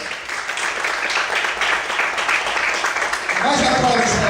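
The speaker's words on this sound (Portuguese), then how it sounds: "Você pode aplaudir o Senhor nessa noite." A church congregation claps, a sustained dense round of applause, with a voice rising over it near the end.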